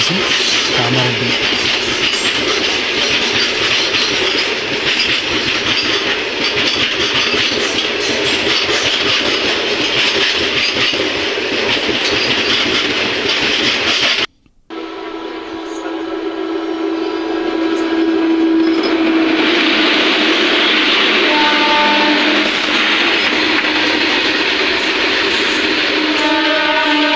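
Goods trains rumble past a train halted on a loop line, with a steady loud roar of wagons and clickety-clack, a brief cut of near silence midway, then continued rolling noise with horn-like tonal notes.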